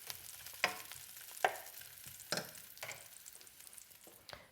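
Meatballs browning in a pan sizzle quietly, broken by several sharp stirring scrapes and clinks spaced a second or so apart, close and fairly soft with no voices.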